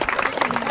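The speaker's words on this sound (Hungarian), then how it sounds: "Nagy tapsot kérünk, tehát a 45-ös kategória legjobbjainak." Brief burst of dense crowd applause for the 45 category winners at the Dunántúl Kupa 2022 competition. The clapping is steady and fairly loud throughout, with a faint voice in the background.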